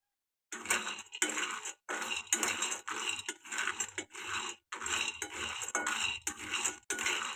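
A spoon scrapes and rattles through dry peanuts roasting in a pan in steady repeated strokes, close up with brief pauses between.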